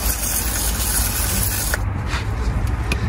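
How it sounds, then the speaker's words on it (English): Aerosol brake cleaner blasts onto the front brake pads and parts of a Vauxhall Adam in a loud, steady hiss that eases off partway through, leaving quieter spraying and faint clicks. "give it all a good blast with some brake clean"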